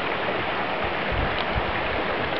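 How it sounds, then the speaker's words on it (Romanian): A mountain stream rushes steadily past in a beautiful natural clearing, fed from workings further upstream. The flow makes a continuous, close, full-bodied wash with no voices. "Apa asta vine de la ceva exploatare de mai de sus."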